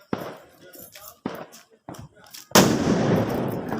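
A Diwali auto bomb firecracker bursts with a sudden loud blast near the end, its crackling roar lingering after several shorter pops and bangs heard amid family voices talking close by.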